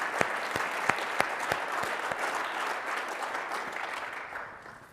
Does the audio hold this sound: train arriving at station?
no